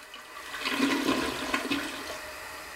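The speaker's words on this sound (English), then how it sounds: "Have you ever thought about what happens to the water after you flush the toilet?" A toilet flushes with a full, rushing swirl of water that builds quickly and drains steadily for nearly three seconds, close by and heard on its own with no talking.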